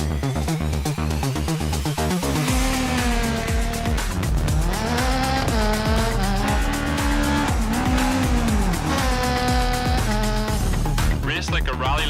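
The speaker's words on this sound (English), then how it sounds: "Get behind the wheel of 6 new classic cars." Classic rally cars race in the EA Sports WRC 24 video game, engines revving loudly and continuously with rising and falling pitch, gear shifts and tire noise, all under a dense, constant mix.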